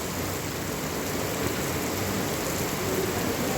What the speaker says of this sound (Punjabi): ਦੇਖੋ ਮੀਂਹ ਆ ਰਿਹਾ